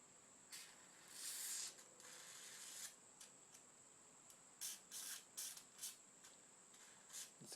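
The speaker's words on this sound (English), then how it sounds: "Get some lubricant on these threads" Lubricant sprayed onto threads on a Honda Express NA50 moped: a faint, close series of short hissing spray bursts, one longer squirt and several quick ones, in a quiet space.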